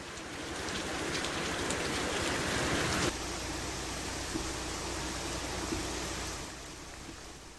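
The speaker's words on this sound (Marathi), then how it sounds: "आज सकाळपासूनच पावसाचा जोर कायम असल्याचं पाहायला मिळालं" Heavy monsoon rain pours steadily in a rural farming district, a dense continuous hiss that eases slightly midway and stays loud throughout, with no voices.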